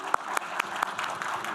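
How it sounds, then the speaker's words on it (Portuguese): Thin applause from a conference audience at a radio panel, a few distinct claps over a short moment, fairly quiet and sparse. "Uma salva de palmas para o Daniel."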